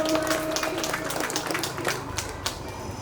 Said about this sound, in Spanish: Fuerte voto de aplausos.